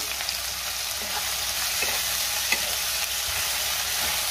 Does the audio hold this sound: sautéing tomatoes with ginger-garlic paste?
yes